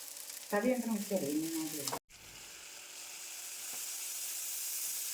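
Steady loud sizzling hiss of water on a hot dosa pan, preceded by a brief burst of talking, then continuing alone and gradually growing stronger.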